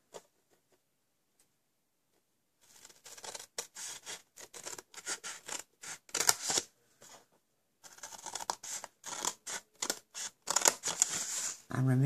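Quick, crisp snipping and scratchy cutting sounds of small scissors trimming paper come in bursts, close by, with brief pauses between runs of small cuts.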